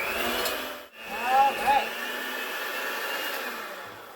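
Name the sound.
electric mixer mixing carrot cake cookie batter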